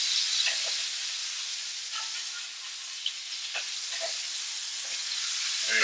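Salmon fillet pan-searing in hot oil gives a steady, close sizzle and crackle with small pops, with no talking.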